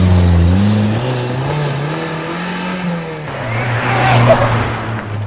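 A car driven flat out at maximum speed, a friend's vehicle carrying a skateboarder about to jump off backside; a loud, continuous engine drone whose pitch rises and falls as it revs, with no talking.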